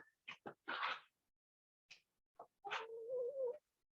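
Backyard chickens cluck in several short, close bursts, followed by a longer warbling call, with brief pauses between sounds and no talking.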